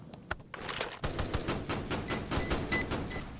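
Rapid automatic gunfire from a video game, with one or two isolated shots followed by a dense, loud stream of repeated bursts that continues to the end with no talk.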